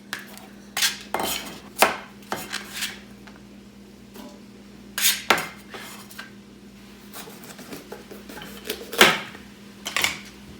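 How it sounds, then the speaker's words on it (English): A knife chops red bell pepper on a cutting board in irregular bursts of sharp taps, close and crisp, separated by short pauses. "I'm also chopping this red bell pepper into little bite-sized chunks."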